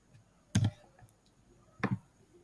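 Two short clusters of keystrokes on a computer keyboard as a password is typed, crisp close clicks separated by a quiet pause in a still room.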